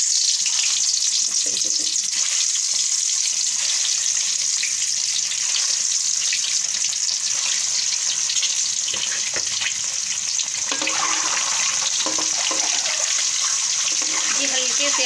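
Eggs frying in hot oil give a constant bright sizzle and crackle, loud and close, with someone speaking over it partway through.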